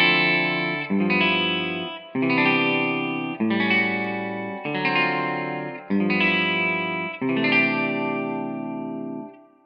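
Synthesized chords strummed by a Harmony Wizard strum effect set to 50% in Studio One ring out one by one, seven bright sustained chords each starting with a quick rolled attack, clean and alone.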